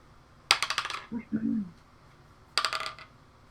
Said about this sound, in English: That was a dice.